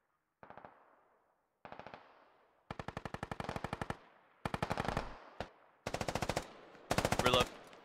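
Heavy machine gun fire in the video game Squad rips out in repeated bursts of rapid, loud shots, with short pauses between volleys and the bursts growing longer toward the end.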